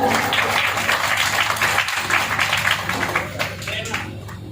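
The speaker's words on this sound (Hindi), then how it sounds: "जोरदार तालियां।" Audience clapping at a religious satsang gathering, a continuous dense patter of many hands that fades slightly toward the end, with voices mixed in.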